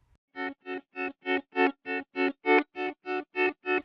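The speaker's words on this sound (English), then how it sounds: "It's just a slight bit of harmonic distortion." Pedal steel guitar through Soundtoys Decapitator harmonic distortion plays twelve evenly spaced, sustained notes with a gently saturated tone, clear and close, with no voices.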